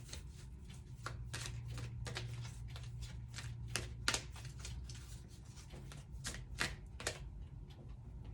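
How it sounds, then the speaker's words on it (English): Tarot oracle cards being shuffled and flipped, a steady run of close riffling and flicking snaps with a few sharper card slaps, no talk. "Let's see what card decides to flip for us today."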